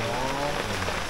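Rain falls steadily on a mountain trail, a dense even patter of drops on surfaces close around, alone without voices for about a second.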